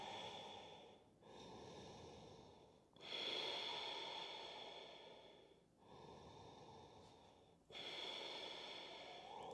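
Slow, deep breaths during a yoga practice, four long airy inhales and exhales in a steady rhythm, close and fairly quiet with no talking.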